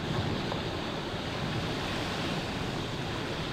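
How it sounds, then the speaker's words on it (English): Heavy surf pounds a seawall in Scituate, Massachusetts during a powerful nor'easter, a dense, continuous roar of crashing water mixed with wind buffeting the microphone, with no voices. "Massive waves shooting into the air and overcoming the seawall as that monster nor'easter lashes the East Coast."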